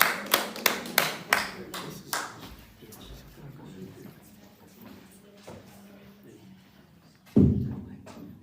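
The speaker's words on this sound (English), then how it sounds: "So a big round of applause." A short burst of sharp hand claps comes from a few people and quickly fades into quieter room noise. A single dull thud follows near the end.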